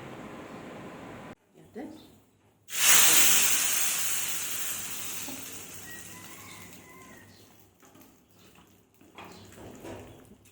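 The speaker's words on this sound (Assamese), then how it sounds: "তেলখিনি গৰম হোৱাৰ পিছত তাত মই অলপ সৰিয়হ গুটি, জলকীয়া 4টা আৰু নৰসিংহ পাত অলপ দি দিছোঁ।" Mustard seeds, four chillies and curry leaves hit hot oil with a loud, sudden hiss that fades into a steady crackling sizzle, briefly preceded by a soft clatter.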